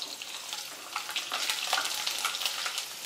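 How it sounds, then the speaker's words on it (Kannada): Garlic frying in oil for a gooseberry pickle, a continuous crackling sizzle at moderate level with the occasional stir. "ಇವು ಬೆಳ್ಳುಳ್ಳಿ ಸ್ವಲ್ಪ ಫ್ರೈ ಆಗ್ಬೇಕ್ರಿ"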